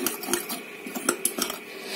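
Rapid, uneven clinks of a utensil against a bowl while whisking egg white with starch into a thick mixture, with irregular taps close by and no voices.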